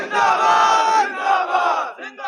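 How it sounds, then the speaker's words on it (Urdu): A large religious gathering shouts a slogan in unison in reply to a leader's call, a loud massed chant that swells, dips briefly and surges again before a second shouted phrase begins. "ہاتھوں کو اٹھا کر نعرے کا جواب دیں، تاجدار ختم نبوت۔"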